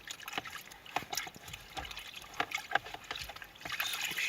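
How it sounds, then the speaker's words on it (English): A seatbelt being lifted out of a wash bowl of dirty water, with soft sloshing, trickling and dripping as the strap comes clear, quiet and close. "the next thing to do is take the seatbelt out of the water"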